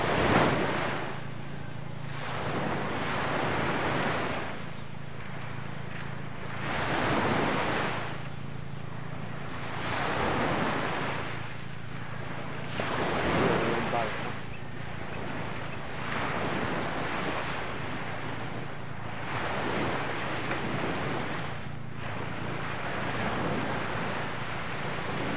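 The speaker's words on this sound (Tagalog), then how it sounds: "nagpapainit tayo dito sa baybaying dagat." Ocean surf rolls onto a beach shore on a morning seaside, with broad, hissing waves swelling and receding in a slow repeating rhythm, mixed with steady wind rumble against the microphone, and no talking.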